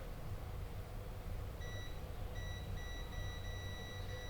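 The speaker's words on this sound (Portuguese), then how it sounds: "Aqui nós já temos um componente bipando dos dois lados." A multimeter set to continuity beeps while probing a component on a shorted circuit board, giving a thin steady tone in a few short bursts over a constant background hum.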